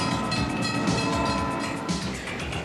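A passenger auto train rumbles steadily and loudly past, with a rolling clatter of wheels and a faint horn tone held beneath the continuous noise.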